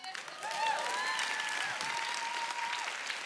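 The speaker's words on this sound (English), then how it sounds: "And it's okay to clap for that." A church congregation at an Easter service bursts into brief, fairly quiet applause, with thin whistle-like tones drifting over the clapping.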